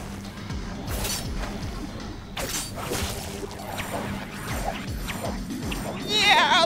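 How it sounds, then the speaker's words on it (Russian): A wooden crate smashes in the video game DmC: Devil May Cry, sharp crashing hits amid busy game effects and music, with a brief shrill burst near the end. "Мне надо там ящик разбить"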